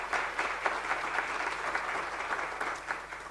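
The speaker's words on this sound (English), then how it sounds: "Can I request another round of applause for her?" Sustained audience applause at a university research symposium, a dense steady patter of many hands clapping with no voices over it, holding evenly for the whole stretch.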